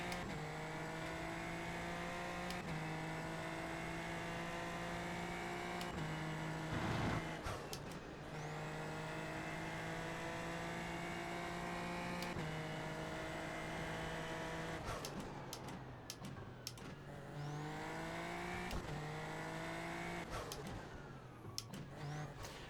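A race car engine in the iRacing sim racing game whines continuously, its pitch climbing through gears and dropping sharply at shifts, with stretches of hard braking and downshifts.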